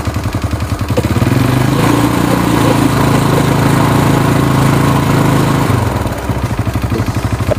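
A Yamaha Mio scooter engine at idle with a rattling thrum, then revved up for several seconds into a louder, steady drone before settling back to idle.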